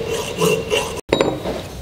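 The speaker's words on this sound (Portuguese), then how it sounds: "com o auxílio de uma lima triangular, aquela lima que é usada para afiar serrote" A triangular saw-sharpening file rasps back and forth across a wooden dowel, cutting a groove in repeated close strokes with a brief pause partway through.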